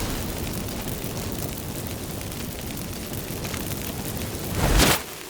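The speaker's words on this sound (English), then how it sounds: "Get ready for some magic fireworks." Magic fireworks set off by activated incense in The Witcher 3: Wild Hunt, a continuous crackling, hissing rumble capped by one loud burst near the end.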